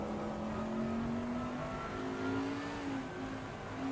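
A race car in Assetto Corsa Competizione at Spa brakes hard into Les Combes, its engine note a steady droning tone that dips and climbs slightly, heard continuously without any talk.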